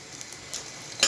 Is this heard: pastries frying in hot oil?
yes